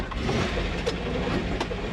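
The gasoline engine of an old 1960s dump truck runs loud and close with a rough, steady roar while the driver downshifts, and no rev peak stands out.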